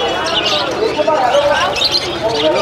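Pigeons coo and chirp at a crowded outdoor pigeon market, their calls mixed into a continuous hubbub of nearby voices and market chatter.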